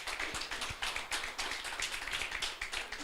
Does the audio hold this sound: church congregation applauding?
yes